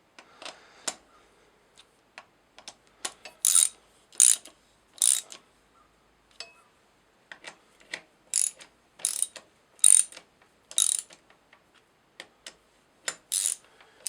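Short bursts of ratcheting clicks come up close as valve springs are compressed on a DSM 4G63 engine, scattered irregularly with quiet gaps between them.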